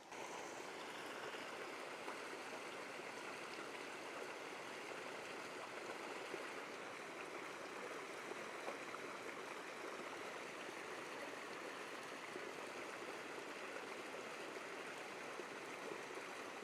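A mountain stream flows steadily nearby, a constant broadband rush and gurgle of water with no pauses and no voices.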